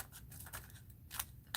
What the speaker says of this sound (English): So I can get my scissors in here